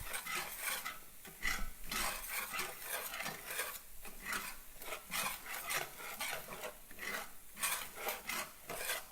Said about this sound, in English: We'll get my spatula. And I'm going to stir this around.